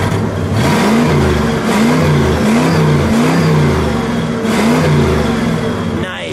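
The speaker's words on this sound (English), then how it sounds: "Let's listen to the 429, shall we? Let me have you give it a rev." A 1969 Ford Thunderbird Landau with a 429 V8 fitted with resonators revs repeatedly, the throaty engine rising and falling in steady swells, loud and close throughout.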